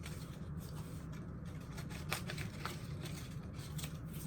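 Paper around an art print is trimmed, a faint close series of soft snips and rustles over a steady background hiss.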